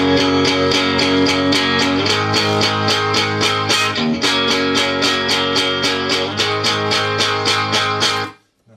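Electric guitar amp captured by two Shure 57 microphones blended together, one straight on the cone and one at 45 degrees: a loud, heavily distorted riff of steady repeated chugs that runs continuously, then cuts off sharply at the end.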